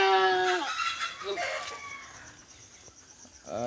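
Kalahari breed chickens, a big mother hen among them, give a few loud, tonal clucking calls near the start, fall quieter, then call once more at the end.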